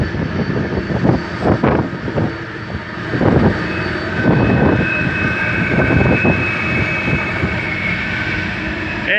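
Freight train's lead locomotive engine rumbling steadily while riding the rails, a continuous loud drone with a sustained tonal whine and periodic heavier surges of rattle.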